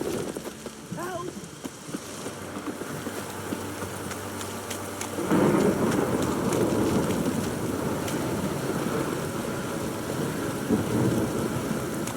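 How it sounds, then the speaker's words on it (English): Heavy rain pouring with rolling thunder in The Witcher 3 storm, a steady loud downpour that swells sharply midway and stays dense to the end, with a brief voice early on. "This downpour's a bastard, it is."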